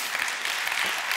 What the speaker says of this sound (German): ja, klatschen die ruhig.